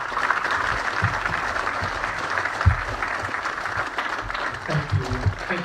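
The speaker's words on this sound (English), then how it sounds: "Let's give them a round of applause." Steady, fairly loud applause from an assembled audience, dense and continuous clapping with occasional louder individual claps and faint crowd murmur underneath.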